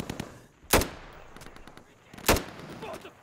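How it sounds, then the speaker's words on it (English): Gunfire in a first-person shooter video game: two loud sharp shots stand out among scattered fainter cracks and bursts of distant fire. "Okay, we're getting shot from there."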